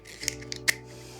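Scissors snipping beading wire for a bead project, a few quick metallic snips close up, the sharpest cut near the end, over a quiet low hum.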